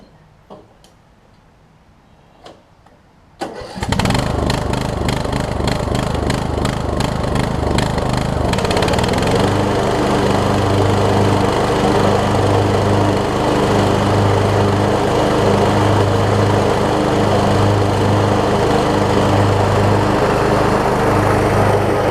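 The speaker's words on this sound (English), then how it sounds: "Let me crank this thing up, see if I can engage the blades." A Craftsman LT1000 riding lawn mower cranks with a few clicks, fires up, and settles into a loud, steady engine drone with rapid ticking; the blades then engage and the tone thickens into a constant close-up roar.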